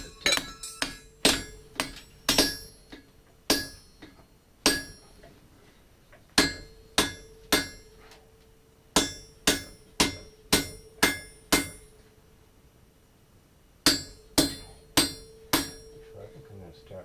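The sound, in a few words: hammering hot steel at a forge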